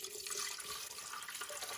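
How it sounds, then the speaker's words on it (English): Water is poured into a countertop water filter, a close continuous splashing and trickling with bright gurgling, faint overall and steady for a moment with no talking. "Let's go ahead and pour it into the water filter and see how long it takes to filter out this water completely."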